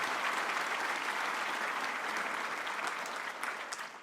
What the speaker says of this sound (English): let's give a round of applause to Dean Samuel and the entire organization team for making today possible again.